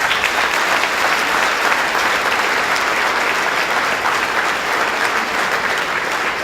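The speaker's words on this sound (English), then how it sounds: "So you should now give a round of applause" A gala audience gives a sustained round of applause, dense and even clapping from a large crowd filling the whole stretch at steady loudness.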